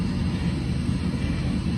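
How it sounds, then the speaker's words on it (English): Boeing 737-800NG engines on the takeoff roll, heard as a loud, steady low roar with broadband rumble that holds without a break, with no voices over it. "I'm gonna keep my hand on the throttle until we get V1."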